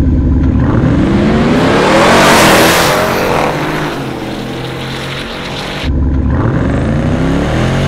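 A Jeep Trackhawk and a supercharged Ford F-150, the Hennessey Venom 775, launch in a drag race. Loud, close engine roar climbs steadily in pitch under hard acceleration, dips briefly at a gear change, then surges again, with no voices.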